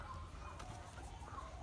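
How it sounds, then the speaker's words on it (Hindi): Bird calls drift through a Dussehri mango orchard in Malihabad, faint and continuous over a quiet outdoor background with no speech. "इस समय यहाँ पे चिड़िया चहचहा रही हैं।"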